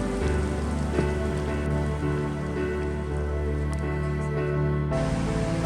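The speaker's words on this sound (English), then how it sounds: "we just barely mistimed the rain" Steady rain falls on surfaces near a car at the end of a hike by Jasper Lake in the Indian Peaks Wilderness, a dense, even patter close by with no break.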